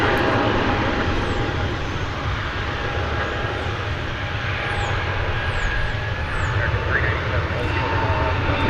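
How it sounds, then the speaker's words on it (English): A Delta Airbus A220 jet departs from DFW Airport bound for Salt Lake City, a broad continuous engine roar heard from a distance as a steady wash of sound, with faint chirps on top and no clear speech. "I'm sure you could all hear the Airbus A220 taking off for Salt Lake City"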